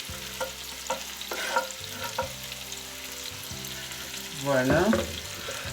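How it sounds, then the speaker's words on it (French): Vegetables and garlic fry together over low heat in a pan for moambe chicken, giving a soft continuous sizzle with stirring clinks and a brief louder stir near the end, while a voice says one short word. "Je les laisse frire à feu doux ensemble"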